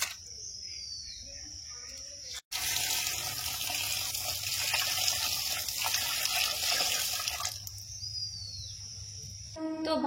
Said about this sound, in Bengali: তো চলো চিংড়ি মাছটা ভালো করে ধুয়ে নিই